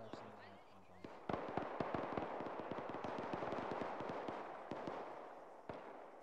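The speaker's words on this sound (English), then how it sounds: "that was a rapid rate of fire." Rapid bursts of far-off gunfire at a field training exercise, a fast, continuous rattle of small cracks with a few louder isolated shots at the start and end, heard from a distance.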